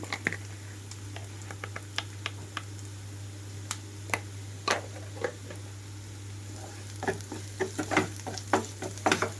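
Onions frying in oil with turmeric added, a low steady sizzle beneath scattered sharp clicks and taps of a spoon stirring the pan, fairly close, with no voices.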